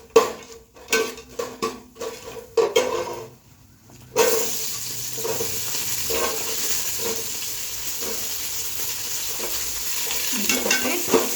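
Whole garlic cloves stirred and sautéed in ghee in a pan for ghee rice: a spoon clinks and scrapes against the pan at first, then a loud, steady sizzle of frying takes over with occasional stirring knocks.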